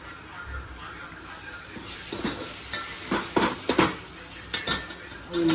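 Chicken frying fast in a pan for a simple bachelor-style chicken curry with light curd gravy, giving a soft background sizzle broken by several sharp clinks and scrapes of a utensil against the pan.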